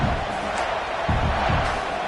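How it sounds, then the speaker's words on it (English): Roaring stadium crowd at a college football video game matchup between Notre Dame and Nebraska, a steady, dense wall of excited cheering throughout with a few louder swells, no commentary over it. "It's early, but this crowd is fired up. Listen to this noise here."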